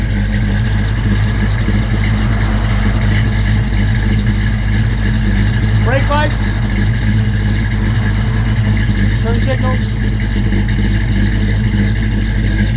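A 1949 Ford F1 pickup truck idles with a steady, loud mid-range engine drone and a constant mechanical hum, while a man calls out vehicle checks over it.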